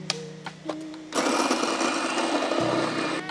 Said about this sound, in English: we're gonna grind it with the Fellow Opus